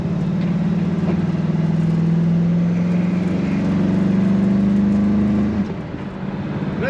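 A 1961 Ford F100 street rod's engine drones steadily from inside the cab, its pitch climbing gradually as the automatic transmission holds a gear, then dropping with a firm shift near the end.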